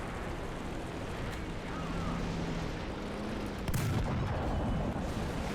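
Tank cannon fire and shell impacts in the War Thunder battle with a Tier 5 British heavy tank: a dense rumbling barrage fills the background, with a sharper loud hit standing out near the end.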